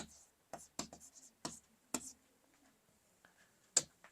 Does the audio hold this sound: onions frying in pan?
no